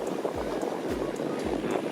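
A low CAT 320 Next Gen excavator engine rumbles steadily with rhythmic chugging pulses, roughly three labored cycles, under gusty outdoor wind noise.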